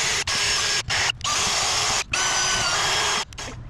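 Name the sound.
drill with nylon abrasive wheel stripping paint from car wheel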